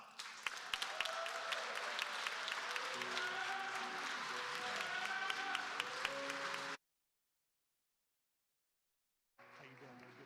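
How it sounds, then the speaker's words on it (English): Round of applause at a Cleveland city council meeting, a moderate crowd clapping steadily with talk mixed in, cutting off abruptly, then a brief return of clapping and voices after a silent gap. "let's give them a round of applause."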